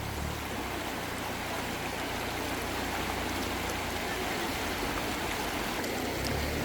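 A fast-flowing, raging river rushes in a constant broad roar of churning water, loud and close throughout, unbroken for several seconds.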